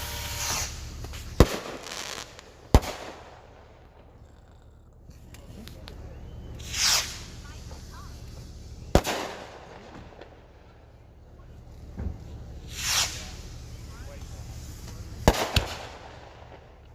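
Neighborhood fireworks go off in scattered booms and sharp cracks, some with hissing, sparkling whooshes, spread irregularly over a fairly quiet background.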